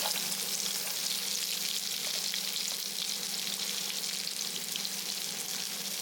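Sliced large onions and fennel seeds frying in hot oil for a hotel-style kurma, a steady, close, dense sizzle that holds evenly throughout with faint stirring, no voices.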